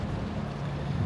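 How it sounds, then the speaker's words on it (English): Strong wind buffets the microphone with a constant low roar, gusting unevenly with no voices. "Look how windy it is."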